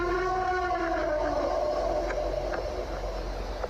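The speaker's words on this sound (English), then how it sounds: "I think it's a wolf and a siren." A long, wavering siren howl rises and falls over a steady low rumble, loud and continuous with faint higher tones drifting through.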